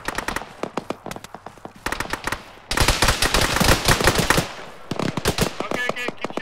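Dense gunfire from the military shooter game Arma 3, with rapid automatic bursts and single shots coming in clustered volleys, loud and near, with a sustained heavy exchange in the middle stretch.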